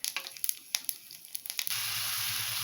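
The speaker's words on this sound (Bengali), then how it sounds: "এখন পাঁচফোড়ন দিয়ে দেব।" Panch phoron spices dropped into hot oil in a wok that already holds dried chillies and bay leaves, with a few crackling pops followed by a steady sizzle, close and fairly quiet.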